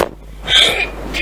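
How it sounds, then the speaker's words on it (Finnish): A person lets out a single short, close cough-like burst, with a breathy tail, and no talk around it. "yskittää taas jälleen kerran"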